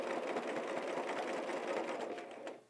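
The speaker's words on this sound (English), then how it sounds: "I'm going to travel stitch down here so I can show you how I prefer to form feather shapes" A sewing machine does free-motion travel stitching on a quilt, a fast steady whirring patter that runs close and fairly quiet, then slows and stops.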